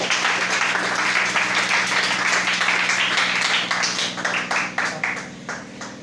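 A church congregation in a tabernacle applauds during a French-language sermon on church offices, producing a steady wash of clapping that thins into scattered individual claps toward the end, with some speech over it.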